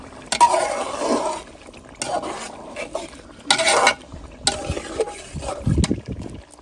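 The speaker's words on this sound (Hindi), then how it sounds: "चिकन को भुनी लगती है जी" Chicken roasting in tomato gravy in a pot in a dark village kitchen, intermittent bursts of stirring, scraping and sizzling against the metal, separated by short quiet gaps.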